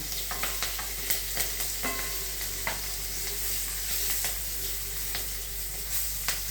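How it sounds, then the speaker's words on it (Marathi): Green chillies frying in hot oil on a lowered gas flame, a steady close sizzle broken by scattered crackles and the tap of a stirring spoon against the pan, with no talking. "गॅस आता लहान करायचा आहे त्याच्यामध्ये मिरच्या घालून घ्यायच्या"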